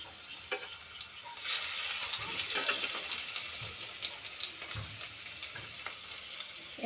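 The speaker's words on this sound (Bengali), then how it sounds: "একটুখানি রসুনটাকে নেড়ে চেড়ে নিয়ে গরম তেলে পেঁয়াজটা দেব" Bay leaf and a garlic clove frying in hot oil in a pan for a Bengali koi fish curry, a bright continuous crackling sizzle with occasional stirring scrapes and pops, close and alone without speech.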